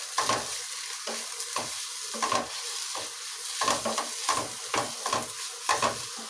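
Curry leaves sizzle and crackle in hot oil as they are stirred, with rhythmic scraping strokes repeating over a steady frying hiss, close and fairly loud with no voices.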